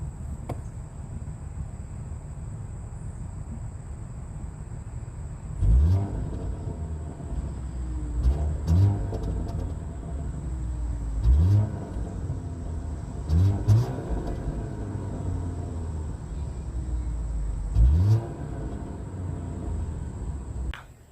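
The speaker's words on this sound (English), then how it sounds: "gonna give y'all some revs of this here motor" An Audi A4 S Line engine revs repeatedly, rising in bursts every few seconds then falling back to a low idle, heard close up with no talking.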